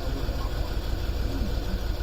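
A Land Rover Discovery diesel engine idles steadily in a driveway, a continuous low rumble with an even, close mechanical throb.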